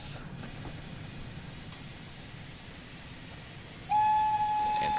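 An LMS Fowler Class 4F steam locomotive in Train Sim World 4 rumbles along with a low, steady running noise, and near the end a clear, sustained whistle tone comes in loudly.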